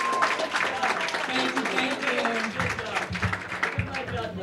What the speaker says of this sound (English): Can we just get one more round of applause for everybody today?